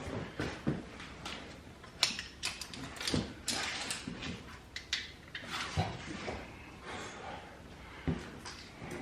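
Tools click, clank and scrape in irregular bursts while transmission mount bushing bolts on an old Chevy truck crossmember are tightened, fairly quiet and close, with sharp metallic ticks scattered throughout.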